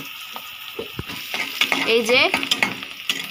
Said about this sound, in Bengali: এখানে আম্মু পেঁয়াজ আর কাঁচামরিচ ভেজে নিচ্ছে তেলের ভিতরে